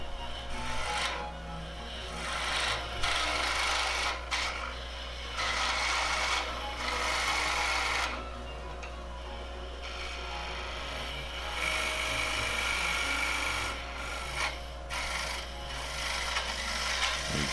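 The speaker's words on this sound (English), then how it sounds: "now I'm just reducing that extra material with the bowl gouge again" A bowl gouge cuts into wood spinning on a lathe while turning a stummel, giving a steady rasping, scraping hiss close by that comes in waves as each pass starts and stops, with an even hum underneath.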